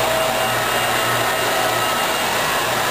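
A soil vapor extraction vacuum blower on an air sparge and SVE trailer system runs under test at about 60 inches of water column, a loud, steady, close roar with a faint low hum and no talk.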